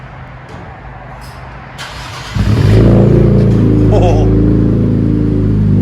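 An Infiniti Q60 with a 3.7L V6 and muffler delete starts up with a hum that jumps into a loud, deep, sustained engine roar, heard close, with a brief exclamation from someone nearby.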